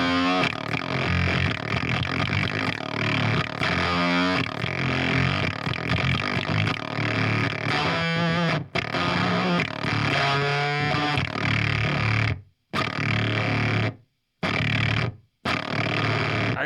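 A Fuzzrocious CROAK effects pedal pushes an electric guitar into loud, heavy distortion, gritty sustained chords with warbling sweeps, ending in a few abrupt stops and short silences.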